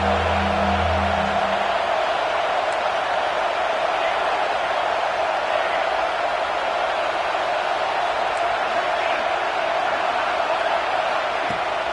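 Steady broad roar of a football stadium crowd during a third-down red zone play, loud and continuous throughout with a faint low hum at the start.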